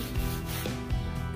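Sandpaper rubbing along the edges of bamboo pieces while building a spider house, a close, steady scraping that swells in a few short strokes.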